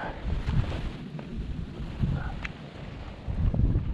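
Steady wind buffeting the microphone on a shore while fishing, a continuous low rumble with gusty swells rising and falling, no speech.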